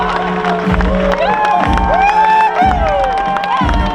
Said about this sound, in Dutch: Even een applaus voor de en de vader en schoonvader.